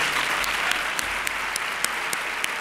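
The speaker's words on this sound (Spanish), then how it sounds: "Yo me gustaría pedir un fuerte aplauso para estos dos bailarines." An audience at a sports gala in San Sebastián de los Reyes applauds two dancers, a steady, loud crowd clapping with a few sharper, distinct claps standing out at a regular beat.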